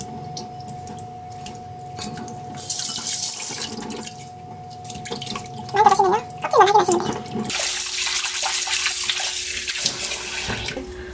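Oysters are gently rinsed in salted water under a running kitchen tap, with a steady splashing stream and brief swirling bursts that stop, then resume louder, while someone talks over the water.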